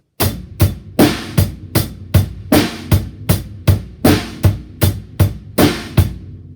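A drum kit plays a steady, even groove with the bass drum thumping on every eighth note alongside bright cymbal hits, close and loud, no voices.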